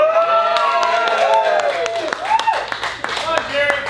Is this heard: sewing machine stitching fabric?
no